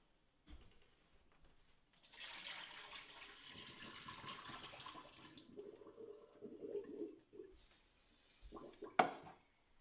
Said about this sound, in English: Now the tofu has been soaked for more than 15 minutes, and it should be rinsed.